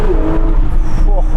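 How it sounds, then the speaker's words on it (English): A Porsche 911 GT3 RS engine revs on a mountain road, its tonal, rising engine note heard close and loud for a brief moment, with a voice exclaiming over it. "hearing that engine bounce off the mountainside"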